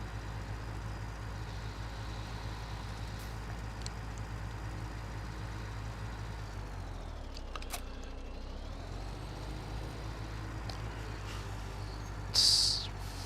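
Truck engine in Farming Simulator 17, a steady low diesel drone that runs throughout, dips briefly mid-way as the load changes, and ends with a short hiss like an air brake release.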